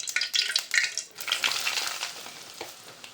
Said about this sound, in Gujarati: હવે તેલ થઈ ગયો હવે એમાં નાખી દઉં બધો લોટ